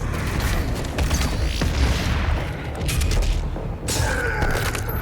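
Sticky bombs explode in the Doom Eternal shooter: several heavy booms and bursts amid mechanical game clatter, loud and close with no talking.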